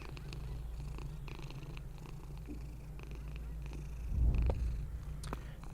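Church, the pet cat in a horror video game, purrs in a continuous low rumble close by, growing louder and fuller for a moment near the end, with no one speaking.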